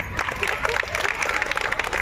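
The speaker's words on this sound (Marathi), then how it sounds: "आऊट या विनर या यांच्यासाठी टाळ्या" Brief scattered clapping from a small group, honoring the winners of a game at a mothers' gathering at a village school, light and mid-distance with a murmur of voices.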